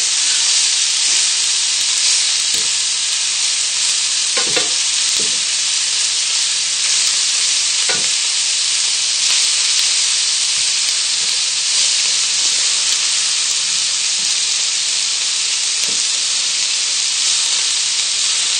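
Lamb seared in a pan with ground cumin, a loud continuous sizzle and hiss filling the whole stretch with scattered faint clinks and crackles, no talking.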